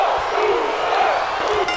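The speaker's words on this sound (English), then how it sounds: "Crowd clearly behind Jey Uso here tonight." A large wrestling arena crowd in WWE 2K25 roars and cheers for Jey Uso, a dense continuous wash of voices, loud and sustained.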